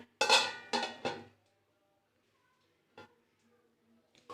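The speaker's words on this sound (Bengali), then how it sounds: "আমি একটু ঢেকে দেবো" A metal lid goes onto a cooking pot with a few sharp clattering clanks in quick succession, close and bright, then quiet with a couple of faint later taps.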